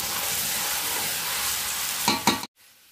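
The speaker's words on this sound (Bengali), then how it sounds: "আলুর সাথে সমস্ত মশলা আমার খুব ভালো করে কষানো হয়ে যাচ্ছে।" Potatoes frying with spices in a pan for Bengali alur dom, a steady close sizzle with stirring scrapes, a couple of louder stirs near the end before the sound cuts off abruptly.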